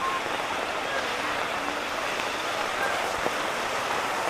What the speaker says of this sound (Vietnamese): mưa to các bạn